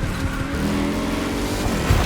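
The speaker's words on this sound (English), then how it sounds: "I will at least overtake all the AIs here with this motorcycle engine" Car in The Crew racing game fitted with a swapped motorcycle engine, a steady buzzing drone that holds at constant loudness throughout, with a small rising surge near the end.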